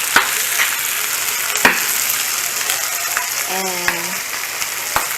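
Garlic sizzles and fries steadily in a pan while braised pork humba is cooked with pineapple juice, a continuous broadband hiss with a few sharp clicks and a brief tonal squeak near the end, with a single spoken word at the start.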